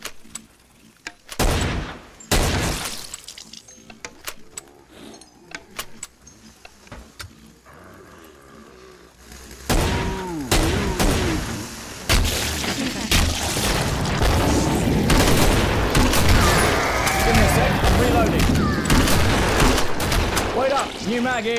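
Repeated gunfire and booming shots in the zombie shooter game Killing Floor, loud and sustained through the second half with bursts and blasts, under occasional game voice lines.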